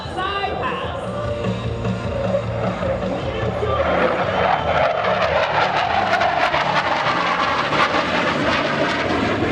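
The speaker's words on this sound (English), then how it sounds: "From the right, Porcelain with the top side pass." A CF-18 Hornet fighter jet makes a top side pass at an airshow, its engine roar building and sweeping past loudly with a rising, rushing whoosh that fills the whole clip.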